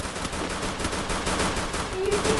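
Rapid automatic gunfire from the Free Fire battle-royale mobile game, a dense continuous burst of shots at steady loudness throughout.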